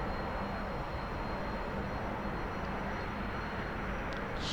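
A T-45C Goshawk jet in DCS runs with its throttle eased back to about 90% power, giving a dense, steady broadband roar that stays constant and loud for the whole stretch.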